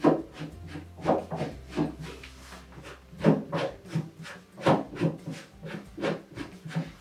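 Unscrewing the height adjustment on a Dignity Lifts DL1 Deluxe toilet lift, giving a close series of rhythmic scraping, rasping turns with a low hum underneath for part of the time.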